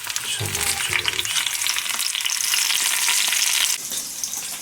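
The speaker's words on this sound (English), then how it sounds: "The potatoes are now frying." Potatoes and tomatoes frying in melted fat in a hot pan for a wartime mock full English breakfast, a loud, continuous crackling sizzle close by with a few faint clinks early on, no talking.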